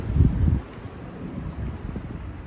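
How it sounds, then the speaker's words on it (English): Gusty wind buffets the microphone in a low, rumbling roar, strongest at the start, then steadier, with a faint bird chirp in the distance. "it is a bit windy out today, so mic noise"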